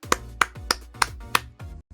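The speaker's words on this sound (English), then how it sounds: "Let's just give a round of applause to Tim Week for a great interview." A handful of sharp, evenly spaced hand claps, about five in a row, close and clear with no voices.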